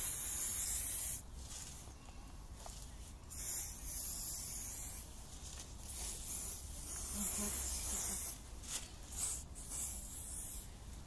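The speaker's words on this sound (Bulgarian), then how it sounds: "И ще свалиш обувката всъщност, за да напръскам, докато не ти е на чорапа?" Bursts of aerosol spray paint hiss onto a shoe and its laces, several long sprays with short pauses between them, close and loud.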